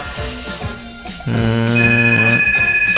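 A telephone rings loudly with sustained electronic tones that begin partway through, repeating in a steady pattern over softer background sounds.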